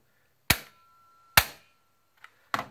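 A manual Glock G17 gel blaster fitted with an upgraded spring fires three sharp, loud snapping bangs with quiet gaps between, plus a faint click, heard up close with no talking.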